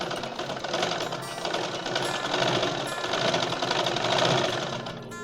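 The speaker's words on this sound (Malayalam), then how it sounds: "ഞാൻ ആദ്യം ചെയ്യുന്ന കാര്യം ഇലാസ്റ്റിക്കിൻ്റെ 2 എൻഡും കൂടെ ഈ 2 എൻഡും കൂടെ കൂട്ടി ഞാൻ ഇങ്ങനെ ഒന്ന് സ്റ്റിച്ച് ചെയ്യും" An electric sewing machine stitches the two ends of an elastic band together for the waistband of straight pants. It runs in a fast, continuous rattling hum, close and unbroken, with no talking.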